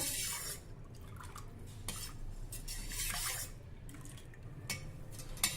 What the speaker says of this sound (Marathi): पुदिना घातल्यावर देखील हे नीट ढवळून घेऊया